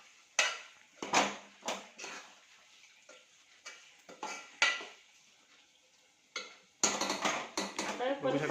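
Marinated chicken being mixed in a pot with a spoon gives scattered scraping clatters and knocks of metal on metal, a quiet stretch, then a denser run of clinking and stirring near the end, fairly close.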